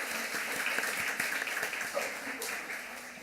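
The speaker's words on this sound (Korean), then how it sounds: "한번 박수로 환영하겠습니다." A church congregation claps to welcome visiting guests during a Korean-language service, a soft, fairly distant patter of hands that fades slightly toward the end.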